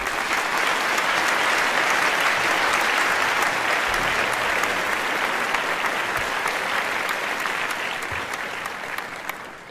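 Loud, sustained applause from a seated audience fills the whole stretch, dense clapping that holds steady and only starts to thin near the end.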